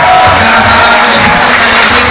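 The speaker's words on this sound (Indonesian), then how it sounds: "tepuk tangan buat Flores" A loud, dense crowd roars and cheers continuously, with scattered clapping mixed into the noise.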